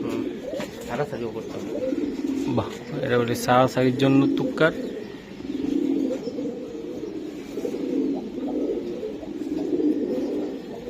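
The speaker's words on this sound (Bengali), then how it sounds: "এই যে দেখেন পুরান জাতের কবুতর" Old-breed pigeons coo in low, rolling pulses close by at a pigeon seller's, with someone speaking over the first part and the cooing continuing steadily afterward.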